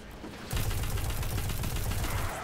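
Uriel's Gift auto rifle fires a sustained rapid burst in Destiny 2, starting abruptly after a short quiet lead-in and rattling on loud and dense for about two seconds.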